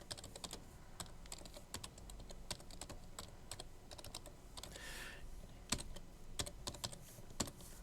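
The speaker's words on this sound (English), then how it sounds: "And then we type our closing tag after we type our text." Keys clatter steadily on a computer keyboard while HTML list tags are typed, an irregular run of quiet, close clicks with brief pauses between bursts and no talking.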